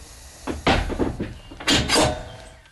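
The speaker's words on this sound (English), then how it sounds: "we can close the divider and close the breech door of the float" The breech door of a horse float is swung shut, with a couple of solid knocks and a latch clunk, close and fairly loud and not under any talk.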